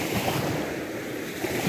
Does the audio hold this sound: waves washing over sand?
yes